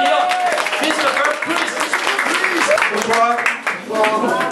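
An audience claps for the jury president at the closing ceremony of the Court Métrange 2015 film festival. A dense patter of applause runs under someone speaking over a microphone.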